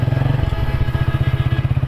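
A motorcycle engine idles or runs close by, a loud, steady low thumping pulse with a fast even rhythm and no voices over it.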